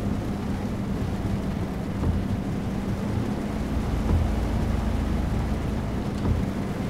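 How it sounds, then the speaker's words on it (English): Rain falls in the Euro Truck Simulator 2 driving game, a dense steady hiss of drops with a low rumble underneath, continuous and fairly loud, with no voices. "Here it's raining."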